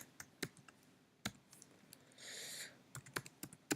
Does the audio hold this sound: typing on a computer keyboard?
yes